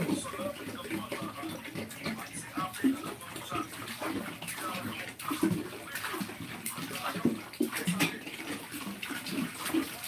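Water runs steadily into a bathtub, a continuous close splashing rush that lasts throughout, with faint voices and household sounds in the background.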